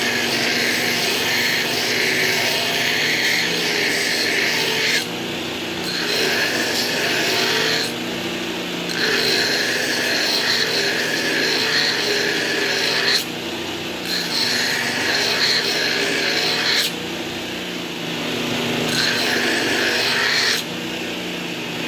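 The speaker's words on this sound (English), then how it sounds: "Let's do it right here on the belt grinder." A belt grinder cleaning up a knife blade gives a steady, loud abrasive rasp with a constant motor hum, broken by several brief lifts of the steel off the belt before contact resumes.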